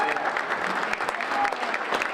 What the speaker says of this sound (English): give a great round of applause to Al and the Guilford Rotary Club